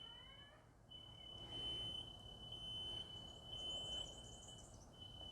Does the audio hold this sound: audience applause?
no